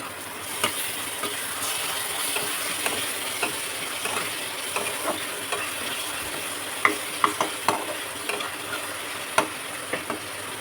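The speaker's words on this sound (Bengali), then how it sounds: "আদা রসুনটা হয়ে গেছে ভাজা ভাজা" Ginger garlic paste fries with onion paste and garam masala in a pan, a steady sizzle broken by repeated sharp spatula clicks and scrapes against the pan, close up, with no speech.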